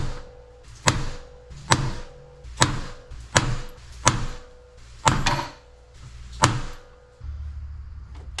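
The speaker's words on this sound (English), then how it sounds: "I may just take my stamp set and punch this back into this piece of metal" A number stamp from a stamp set is hammered into a piece of metal on a flood-damaged Corvair during rust repair. About eight sharp, close metallic strikes come at a fairly even pace, each followed by a short ring.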